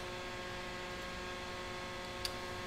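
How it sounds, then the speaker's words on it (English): A small handheld fan drying watercolor paint runs with a steady, quiet electric hum and faint whir, constant and unchanging throughout, with one tiny tick near the end. "We got a little handy fan. It's pretty quiet too"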